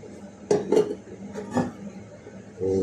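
Glass baking dish handled on a kitchen counter while olive oil is added, with a few soft clinks and knocks of cookware, fairly quiet and close.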